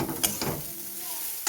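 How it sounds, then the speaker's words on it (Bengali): Spiced dal filling for dal puri stirred in a pan with fried masala, a quick scrape or two of the spoon over a low sizzle, close and fairly quiet. "এবার ভাজা মশলাটা দিয়েও কিছুক্ষণ নেড়ে চেড়ে নেব"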